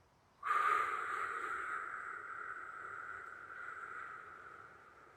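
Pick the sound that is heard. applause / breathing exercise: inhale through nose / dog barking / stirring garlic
breathing exercise: inhale through nose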